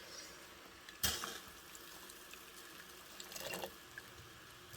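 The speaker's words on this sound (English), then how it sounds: "Now I'm just draining out the water." Hot dye water drains from a pot onto a stove, a faint steady trickle with a sudden splash early on and a few scattered drips afterward.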